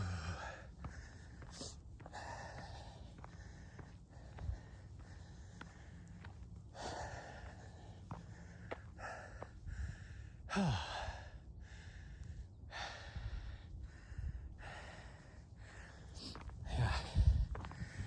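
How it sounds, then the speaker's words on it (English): Hard, audible breathing of a runner climbing Mt Ascension on an easy recovery run, steady sighing exhales and gasps repeating throughout, close to the microphone with faint footsteps beneath. "I'm definitely breathing pretty hard"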